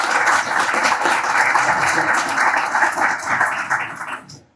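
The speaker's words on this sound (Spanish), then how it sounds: "Por favor, un aplauso para Javier y su trayectoria." An audience gives sustained, dense applause for author Javier Vásconez at a book event, steady clapping that tapers off and stops.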